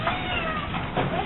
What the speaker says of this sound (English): They all meow at the same time.